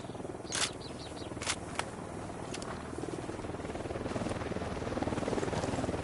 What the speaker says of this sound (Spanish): Se acerca un helicóptero al suelo.